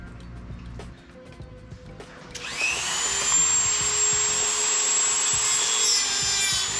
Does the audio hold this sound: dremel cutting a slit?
yes